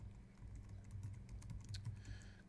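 Keys tapping on a computer keyboard while two lines of text are typed into a box on a page layout, quick irregular clicks close by and fairly quiet, with no talking.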